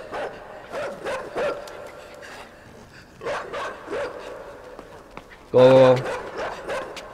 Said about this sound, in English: Oh god, that dog's still here.